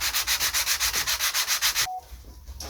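Sandpaper scrubs over a crash-damaged glider repair in quick, regular back-and-forth strokes, loud and close, before stopping abruptly near the end.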